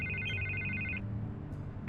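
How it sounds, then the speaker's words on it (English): A telephone rings insistently in the Batman: The Telltale Series video game. Repeated electronic ring bursts sound at moderate volume over a low background hum. "I can't get the phone to stop ringing."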